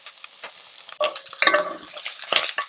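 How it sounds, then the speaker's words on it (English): Soft sizzling of garlic and onion in oil in a pan with stirring scrapes and light utensil clinks, close and fairly quiet, in short bursts. "Once it starts to sizzle, I'm going to add all the spices and let them incorporate."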